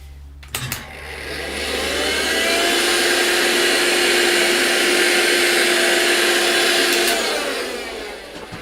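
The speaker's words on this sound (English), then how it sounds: "of course it's a vacuum cleaner, but it's got a HEPA filter" A HEPA-filter vacuum cleaner runs as a steady, loud whining drone, switching on after a brief clatter, holding evenly for about six seconds, then winding down near the end.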